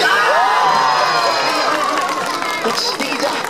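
Outdoor crowd at a performing monkey show at a flower and greenery festival in Hakodate, cheering and shouting with children's voices mixed in, a dense, loud, continuous roar of voices with chatter underneath.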